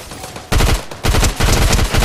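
Rapid bursts of gunfire in Fortnite, loud and close: a short opening volley, then a sustained run of repeated shots with brief gaps between them, no talking.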